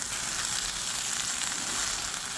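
Rice tipped into a pan of sizzling garden-vegetable stir-fry, giving a steady, close hiss of frying with no voices.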